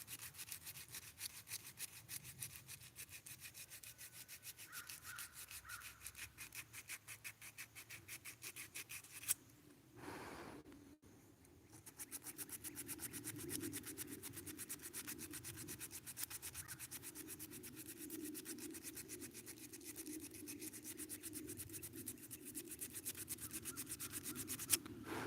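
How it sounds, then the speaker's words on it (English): Steady close rubbing of sandpaper on the bowl of a hand-carved hackberry wood spoon, a continuous rasping scrape with quick back-and-forth strokes and a brief pause midway. "Basically got the bowl sanded there"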